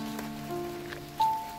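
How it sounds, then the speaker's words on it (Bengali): Rain falls steadily on a tree-lined village road in Kushtia, a soft, even patter with a low, steady hum running underneath and a brief louder swell near the end. "বৃষ্টি হচ্ছে"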